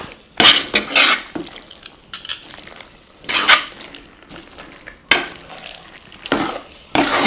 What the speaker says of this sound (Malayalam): ഇങ്ങനെ മിക്സ് ചെയ്യുമ്പോൾ തന്നെ കപ്പ വെന്തതുകൊണ്ട് നമുക്കത് മിക്സ് ചെയ്യാനൊരു പ്രത്യേക സുഖമുണ്ട്